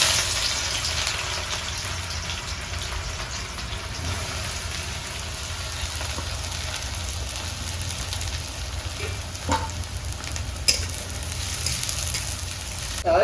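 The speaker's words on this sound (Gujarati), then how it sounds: "તો હવે આપણે પેલા નાખી દઈએ કોબી." Cabbage sizzling loudly in a hot frying pan while Manchurian is cooked, a steady dense hiss that runs unbroken from start to finish with a few faint clinks over it and no talking.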